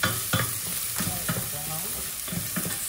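Ingredients for ginataang pork sizzle steadily in a pan while being browned, with a spatula scraping and stirring in several distinct strokes over the constant frying hiss.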